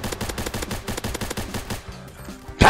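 Rapid, close gunfire rattles in the Roblox game Base Battles, followed by a brief lull and then one loud, sharp ION sniper rifle shot at the very end.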